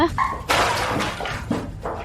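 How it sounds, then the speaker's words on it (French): Loud crashes of a clinic being smashed and broken, several impacts in quick succession, with shouting voices over them. "Cassez tout, cassez fort, démolissez cette clinique minable."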